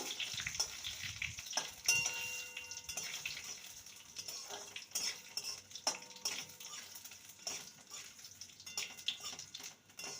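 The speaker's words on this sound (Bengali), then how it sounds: "ফোড়নটাকে কয়েক সেকেন্ড ভেজে নেব" Dried red chillies, one split and one whole, and two torn bay leaves fry briefly in hot oil as a tempering for sukto, giving a soft sizzle with intermittent stirring clatter and faint water-like hiss, close and fairly quiet.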